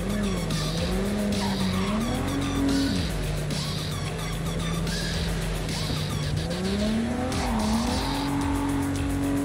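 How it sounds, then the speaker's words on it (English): A car in Cyberpunk 2077 skids through handbrake turns, its tires squealing and scrubbing over a loud engine whose pitch rises and falls with the throttle. No voices. "Really nice for handbrake turns."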